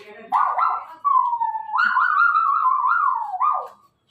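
A voice imitates a small dog's whimpering yelps, a few short cries followed by a drawn-out whining howl that wavers in pitch.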